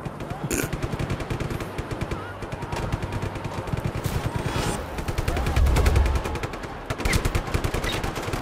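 Rapid automatic gunfire from the video game Just Cause 3 rattles on almost without pause, a dense stream of shots with occasional louder bursts and a low rumble swelling midway.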